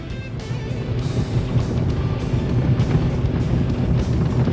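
Rough, lumpy-running piston engine of an A2A Aerostar 600 twin in the MSFS 24 flight simulator, a steady loud drone with uneven pulsing and no talk.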